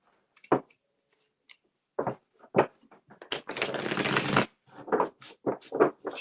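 Tarot cards are shuffled for a reading: a few isolated riffles and taps, then a longer continuous riffle, followed by more quick card snaps, close and clear in a quiet room.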